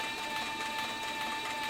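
A leather sewing machine for saddle making stitches saddle skirts, producing a steady, even mechanical whir and hum that runs without a break at moderate volume.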